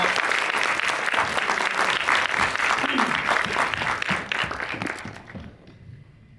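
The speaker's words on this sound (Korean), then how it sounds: "박수로 모셔보겠습니다" An audience at a short film festival screening applauds a film director's entrance with dense, steady clapping that holds strong before tapering off at the end, with a few voices mixed in.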